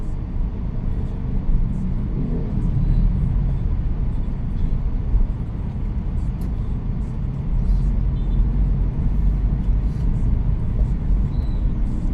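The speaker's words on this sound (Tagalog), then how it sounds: "talagang gabi gabi ito mga traffic dito" Continuous low rumble of heavy highway traffic at night, heard from inside a moving vehicle, with passing cars and engines blending into a steady drone.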